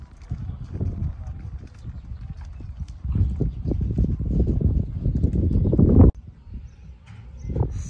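Horse hooves clip-clop steadily on a rodeo track while riders work to sort a herd of cattle, the beats near and fairly loud, with some background noise and a sharp cutoff near the end.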